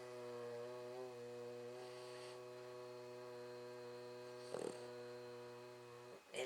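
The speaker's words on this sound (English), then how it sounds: "So you're going to inhale, now exhale and hum." A person hums on a long exhale during yogic humming breath, producing a faint, low, unbroken drone that holds a steady pitch for several seconds before a soft breath at the end.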